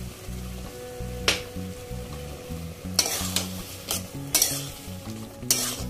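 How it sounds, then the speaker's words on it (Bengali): Tomato chutney with dates, chopped mango leather and lime juice being stirred together in a pan, with scraping strokes at irregular intervals over a steady low background hum. "এবার এগুলো খুব ভালোভাবে মিশিয়ে নিতে হবে।"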